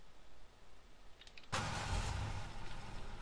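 In the video game DayZ, a car engine cranks and starts abruptly after a quiet stretch, then keeps running with a rough, close, mid-pitched idle rumble.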